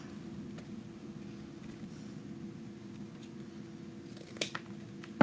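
Sharp scissor snips cut through decorative garland ribbon for a fireplace mantel, a couple of quick crisp cuts near the end over a quiet, steady room background.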